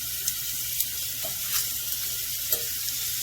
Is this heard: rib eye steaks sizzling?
yes